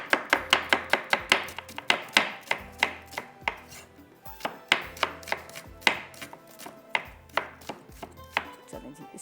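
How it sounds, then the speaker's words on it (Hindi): Onions being chopped with a knife on a cutting board in a kitchen, a fast, steady run of sharp close knocks with a few brief pauses, no talking. "मैं पहले आपको कटिंग करके प्याज इसमें डालती हूँ"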